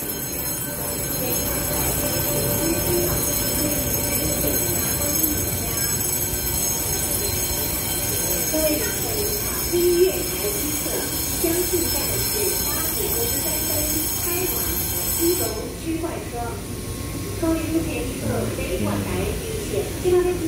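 An EMU712+EMU711 electric multiple-unit commuter train runs steadily with rumbling wheels and faint squeals over about twenty seconds, with continuous interior noise and a high electrical whine that stops near the end, while voices talk in the background.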